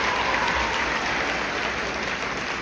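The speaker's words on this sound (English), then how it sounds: "Give them all a round of applause." A crowd claps steadily for a few seconds at an eighth-grade graduation, a dense and even round of applause with no voices on top.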